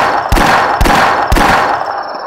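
Three loud pistol shots in the video game The Last Stand, evenly spaced about half a second apart, each a sharp crack with a brief tail over a steady background of game noise.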